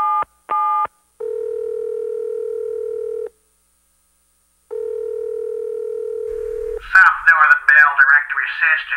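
Telephone dialing tones when calling directory information: two short beeps, then a long steady tone, a pause, another long tone, after which a voice starts speaking.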